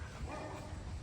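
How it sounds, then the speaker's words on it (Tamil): A Doberman barks and yips in a quick burst, fairly close, over a noisy background. "இல்லை, இது டாபர்மேன் சவுண்டு, பிள்ளை சவுண்ட் இல்லை"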